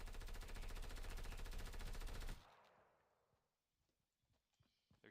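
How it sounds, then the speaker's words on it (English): A dense burst of rapid automatic gunfire from a Fortnite battle royale, loud and close, rattles for about two seconds then cuts off, leaving faint scattered pops and shuffling. "I hear gunfire."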